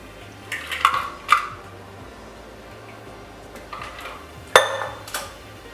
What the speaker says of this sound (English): we're not going to just use the Hawthorne strainer, but we're also going to use a fine mesh